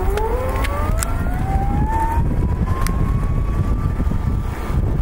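A Panasonic ViVi Charge A regenerative-charging electric bicycle, modified for a brake lamp, starts off with a motor whine rising steadily in pitch over continuous road and wind noise, fairly loud and close.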